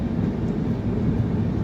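Train 22159, the MGR Chennai Central Superfast Express, pulls into Daund Junction. A low, steady rumble is heard close by, as if from inside the coach, with no talk.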